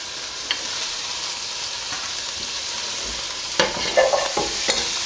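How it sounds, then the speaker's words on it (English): Garlic frying in a pan gives a continuous close sizzle, with light scraping and a few sharper clicks near the end as it gets stirred around. "we're going to now put in the garlic."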